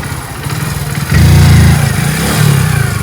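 A Hero Splendor motorcycle engine idles with a close, loud, rapid thump and then revs up sharply, easing off before a second, smaller rev, with no talk over it.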